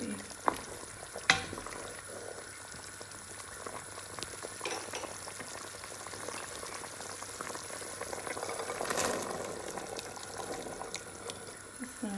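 Chickpeas go into chicken cooking with tomatoes in a pan for Lahori-style murgh chaney: a soft, continuous sizzle with stirring, a couple of sharp clatters near the start, and no voices.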